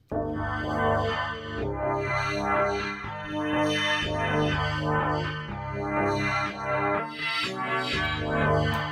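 A Massive synthesizer Whirlpool preset melody with swirling, sweeping tones plays on its own, the repeated notes rising and falling in a steady electronic pattern.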